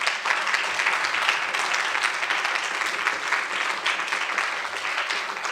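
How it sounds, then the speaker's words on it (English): An audience applauds a composer and musicians at a live event, a full room of sustained, even clapping with no speech. "A word of applause again for the"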